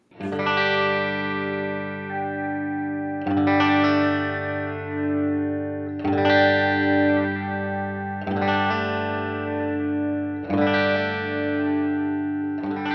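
Distorted electric guitar chords through an EHX Analogizer filter pedal ring out five times at a slow, even pace, each one sustaining with a gently swirling, hollow, phaser-like filtered tone.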